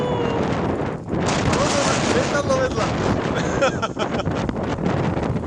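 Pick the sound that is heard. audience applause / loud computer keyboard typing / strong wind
strong wind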